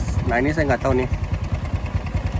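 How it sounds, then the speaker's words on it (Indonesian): A 2006 Honda Supra X 125 motorcycle engine idling close by with a steady low putter, before restoration, while someone talks over it at first. "Ini udah nyala. Nah jadi suara mesinnya kayak gini ya guys."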